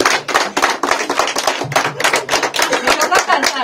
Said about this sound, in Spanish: Bueno, ese aplauso bien,